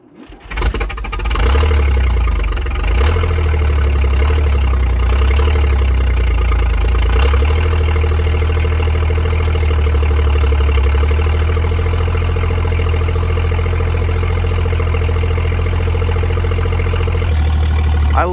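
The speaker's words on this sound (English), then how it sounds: "They fire right up and they idle away like they're brand new." A 1943 GMC CCKW 6x6 World War II truck with electric fuel pump and floor starter cold-starts, catching after a brief crank, then settles into a loud, steady, rumbling idle close by with no talk.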